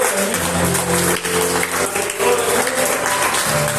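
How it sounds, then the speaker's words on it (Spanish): A church congregation at a Friday teaching service claps steadily, with a continuous wash of applause over a low background hum and no speech on top. "¿Por qué no le da un fuerte aplauso a todos los"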